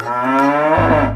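A cow gives one loud, close moo that starts steady and drops into a deeper, rougher lowing near the end, with no other sounds.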